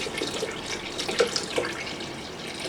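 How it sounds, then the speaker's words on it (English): Water poured into a banana shake, a steady, moderately quiet stream of liquid with faint splashing, heard alone with no talking. "And I'm going to add less water."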